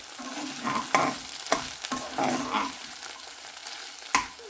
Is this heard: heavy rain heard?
no